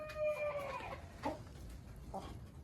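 Faverolles chickens, two roosters and three hens, cluck and call softly in a pen, a few short vocalizations over faint background.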